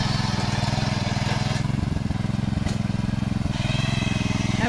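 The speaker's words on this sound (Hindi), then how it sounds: "देखिए अब हम आपको दिखाते हैं हमारी हस्बैंड जी कैसे जुताई कर रहे हैं।" A machine engine ploughs soil in an apple orchard, a close, continuous putter with a fast, even pulse and a rough mechanical tone throughout.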